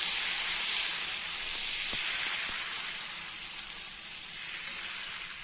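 Barnyard millet and green gram dosa batter meets a hot dosa griddle, producing a soft, continuous sizzle and hiss throughout, with a few faint ladle taps early on.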